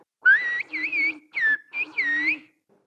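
A person whistles a Turkish phrase in whistled Turkish, four clear gliding pitched bursts separated by short gaps, close and isolated with no speech.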